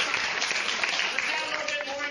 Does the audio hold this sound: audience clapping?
yes